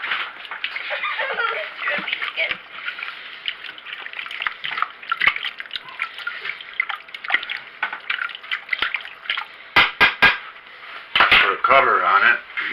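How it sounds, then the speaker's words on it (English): Swiss steak stirred in a pot with a big spoon, wet sloshing and scraping with clinks of spoon against metal, fairly close and busy throughout. "Then stir it up"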